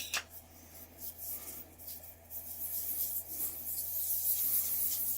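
Wakasa and Naniwa whetstones rubbed together to raise a slurry, a continuous gritty scraping that swells in strokes and grows louder and steadier, close up with no talking.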